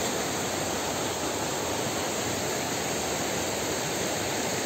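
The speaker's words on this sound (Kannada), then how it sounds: "ಫಾಲ್ಸ್ ಮಾತ್ರ ನೀರು ತುಂಬಿ ಹರಿತೈತೆ" Thottikallu Falls near Kanakapura, running full of water after days of rain, gives a steady, dense roaring rush that stays loud and unbroken throughout, with no voices.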